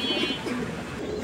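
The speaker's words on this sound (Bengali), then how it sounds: "আমরা এই মুহূর্তে দেখতে পাচ্ছি এখানে আরও এক জোড়া কবুতরের কালেকশন" Pigeons coo in a short burst, low throaty murmuring calls close by against a busy background.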